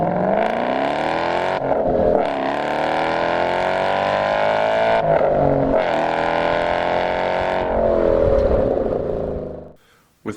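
A 2012 Ford Mustang GT with 420 horsepower runs hard on a race track, its engine revving up repeatedly with brief lifts between gear changes, loud and close, before cutting off near the end.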